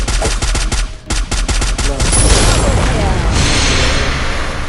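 Rapid bursts of automatic gunfire crackle loudly, followed by a sustained rumbling blast that fills the rest of the moment.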